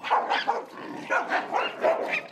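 Dogs of various breeds kept in an apartment in Belo Horizonte fight and bark, with repeated sharp barks, yips and whimpers in uneven bursts, fairly close and loud, with no talk.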